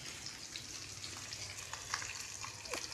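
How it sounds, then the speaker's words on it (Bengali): Shrimp fry in a hot pan at home with a dense, steady crackle and sizzle, sharp pops scattered throughout, close and continuous with no voices. "চিংড়ি মাছ ভাজা হচ্ছে"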